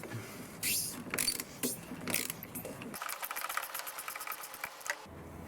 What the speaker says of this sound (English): Okay, so I'm just undoing that filter.